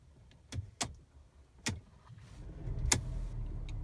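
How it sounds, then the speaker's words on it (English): A few clicks and clunks of a key in the ignition, then a 2015 Mercedes-Benz CLA250 engine turns over and settles into a low, steady idle. "You have to get your key, put it in the hole,"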